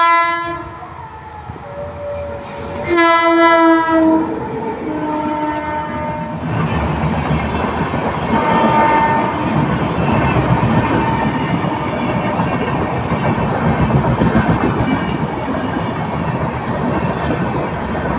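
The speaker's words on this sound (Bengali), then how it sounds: "উত্তরবঙ্গ এক্সপ্রেস শিয়ালদাগামী ট্রেন ছুটে যাচ্ছে বামুনহাট থেকে।" An Uttarbanga Express bound for Sealdah, hauled by an electric locomotive out of Bamunhat, sounds several loud sustained horn blasts, then thunders steadily past nearby with a broad continuous roar of wheels and carriages.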